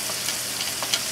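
Ginger sizzling in hot oil in a pot with garlic for Ghana-style jollof rice, a steady soft crackle with faint pops, close and alone.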